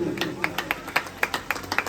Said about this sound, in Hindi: जोरदार ताली हो जाएगी उनके लिए।